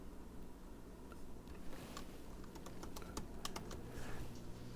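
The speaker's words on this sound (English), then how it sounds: "I would go to Grammarly, if you have a Grammarly account, and I would type" Steady typing on a computer keyboard, a quick run of close, light key clicks with no talking.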